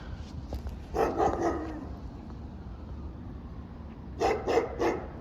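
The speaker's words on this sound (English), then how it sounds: "Oh, they got a dog in the cage right there. That's a big dog." A big dog in an outdoor cage, seen in a flooded neighborhood of Little Falls and Wayne, New Jersey, barks in two short bursts of three or four barks each, moderately close, with quiet ambient noise between.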